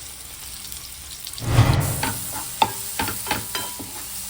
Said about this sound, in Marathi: बोंबील फ्राय करते